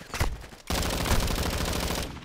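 Rapid gunfire from Call of Duty: Modern Warfare II on a small mosh-pit map, a short burst then a sustained automatic stream of dense, loud shots up close, with no talking over it.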